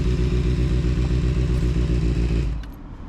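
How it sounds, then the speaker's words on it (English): A Suzuki GSF250V Bandit 250cc motorcycle fitted with a cheap eBay exhaust idles loud and close, a steady rapid throbbing rumble that drops away near the end. "this is just a really cheap eBay exhaust, which still sounds fucking incredible, as you guys heard"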